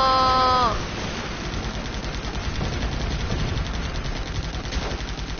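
Sustained rumbling barrage of bombing and gunfire in the Guns Up video game, a dense, continuous wash of blasts and shots following a brief tonal game sound at the start.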